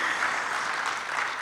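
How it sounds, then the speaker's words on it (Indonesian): A Pentecost Sunday church congregation applauds together, a steady dense wash of clapping that fills the whole short stretch at even loudness with no voices over it. "Beri tepuk tangan lah."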